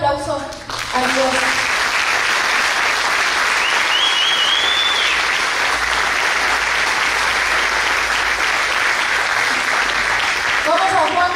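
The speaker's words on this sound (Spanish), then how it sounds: "Ok, dale un aplauso a Dios" A church congregation bursts into sustained, loud, dense applause during a sermon and keeps clapping for about ten seconds, with a voice heard briefly at the start and end.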